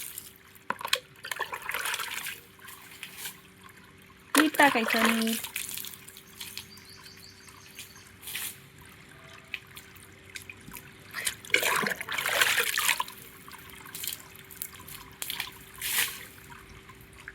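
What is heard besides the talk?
water from a hose pipe watering plants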